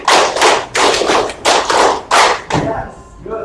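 Grade 5 pupils in a classroom clap in unison, loud synchronized bursts arriving in a counted pattern with short pauses between groups, ending as a voice begins speaking.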